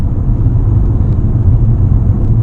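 Mitsubishi Outlander PHEV driving in eco mode and accelerating softly, a steady low road rumble and engine drone heard from inside the cabin, continuous and fairly loud with no talk.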